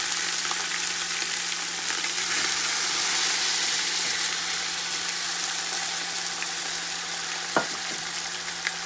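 Frozen mixed vegetables fry in a pan for vegetable pulao, giving a loud, steady, close sizzle throughout, with a low hum beneath it and one brief clink near the end.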